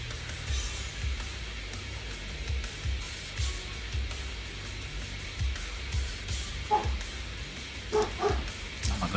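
A dog indoors gives a few short yips and bow-wow barks at scattered moments, moderately loud over a steady low room hum.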